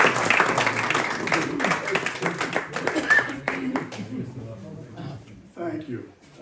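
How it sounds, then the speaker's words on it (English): An audience claps and applauds for a veteran, a burst of dense clapping under speech that thins out and fades toward the end. "So, please put your hands together and greet the crowd."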